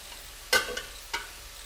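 Parsley being sautéed in a pan, two short sharp sizzling bursts over near silence, each fading quickly.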